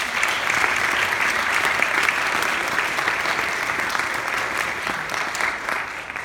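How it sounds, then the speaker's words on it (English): Steady, sustained audience applause at a high school humanities ceremony honoring the graduates' parents, a dense even wash of many hands clapping with no voices over it. "Let's have a round of applause for our parents."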